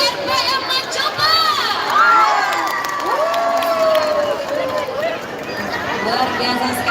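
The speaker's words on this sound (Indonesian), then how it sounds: "Sekali lagi tepuk tangannya untuk RPM Coba." A crowd cheers and shouts at a night-time Ramadan sahur patrol competition at the Maros Grand Mosque, with steady applause and raised voices throughout and a presenter talking over the noise.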